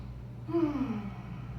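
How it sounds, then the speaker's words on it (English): A single audible exhale or sigh while resting in yoga child's pose, soft and close over a steady low background hum, with no talking. "Breathe here."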